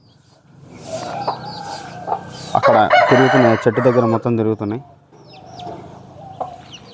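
Hens and their black chicks cluck around a tree on a country chicken farm, with a rooster crowing loudly in the middle; someone talks before and after the calls.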